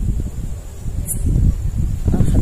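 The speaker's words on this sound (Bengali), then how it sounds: "দারুণ হাওয়াও দিচ্ছে।" Strong night wind gusting across an open rooftop, buffeting the microphone in low, uneven rushes that rise and fall over a couple of seconds, with no speech.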